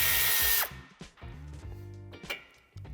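On a Škoda Yeti, a power tool whirs loudly for a moment to remove the nut holding the antenna and then stops, leaving close metallic handling clicks and rattles with another brief burst at the end.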